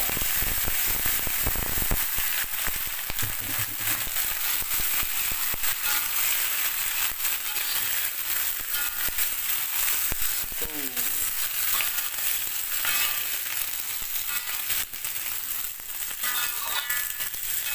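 Mustard greens dropped into a hot pan of sizzling anchovies and onions and stir-fried, a loud continuous crackling hiss with scraping stirs throughout.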